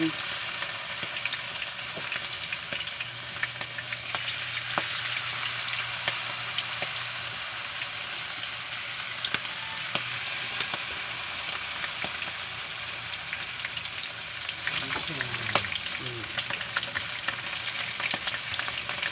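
Isaw, chicken intestines, fry in hot oil with a steady, close crackling sizzle lasting the whole stretch, dotted with small pops and the occasional stirring scrape; no one talks.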